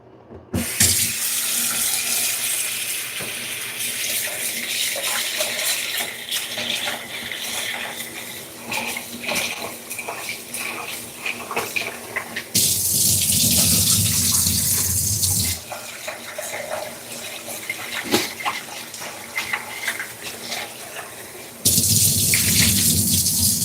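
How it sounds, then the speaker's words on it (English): Tap water runs steadily into a sink while rice is rinsed for a home-cooked dinner, a loud continuous splash that swells heavier in two long gushes, with no talking. "So I'm gonna wash up some rice."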